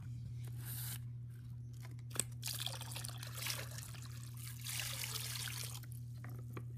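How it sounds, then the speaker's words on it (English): Water pours and trickles into a detox ionic footbath basin, a steady splashing wash over a constant low electrical hum, with no talking. "I'm going to add just a little more water because it's not covering the array."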